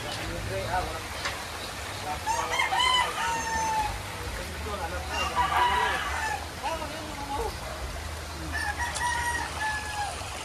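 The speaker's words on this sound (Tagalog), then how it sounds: "Marami rin mga alaga manok ng bayo ko niyan." Chickens and a rooster kept by a family in Montalban, Rizal during a typhoon cluck and crow repeatedly near and far, with someone talking over the birds throughout and steady background noise.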